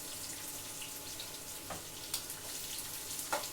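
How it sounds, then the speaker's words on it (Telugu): Onions and green chillies fry in a pan for a carrot vermicelli upma, a faint, steady sizzle with a few soft ticks and clinks, heard quietly from nearby. "ఇప్పుడు నేను ఉల్లిపాయలు పచ్చిమిరపకాయలు వేసేస్తున్నాను"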